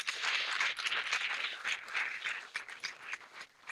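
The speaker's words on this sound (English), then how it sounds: "give yourselves a round of applause." Faint, steady applause from an audience at a public schools awards brunch, a dense patter of many hands clapping that thins slightly toward the end.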